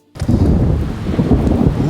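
A thunderstorm with rain, a sudden loud rumbling roar with a dense hiss of heavy rainfall, starting abruptly after a moment of silence and continuing steadily.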